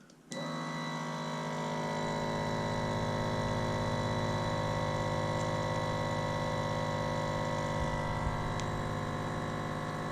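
A vacuum sealer pulls air from a bag of vegetables, starting with a click and then holding a loud, steady motor drone close by for the rest of the stretch.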